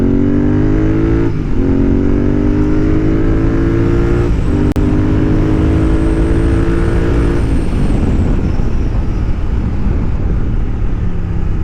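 A modified Royal Enfield Continental GT 650 motorcycle pulls hard down a road, its engine note rising through the gears in a loud, continuous drone with brief dips at shifts, close up and with no talk.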